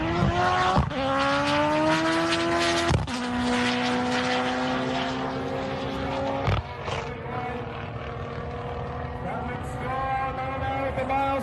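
A 1500 hp 1.9-litre Honda B-series four-cylinder in an all-wheel-drive Integra screams loudly and continuously through rising gear pulls, with brief sharp breaks at each shift; an announcer's voice comes through partway.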